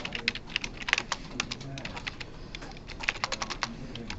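Close, crisp clicks of typing on a computer keyboard in an uneven rhythm over a steady background hum, with faint voice-like sounds in the room.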